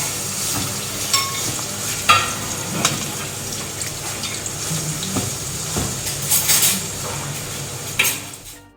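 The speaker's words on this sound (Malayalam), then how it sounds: "ഇത് ഫ്രൈ ചെയ്യാൻ ഇട്ടിട്ടുണ്ട്." Mussels fry in coconut oil in a hot pan, giving a steady loud sizzle with occasional stirring scrapes and clinks throughout.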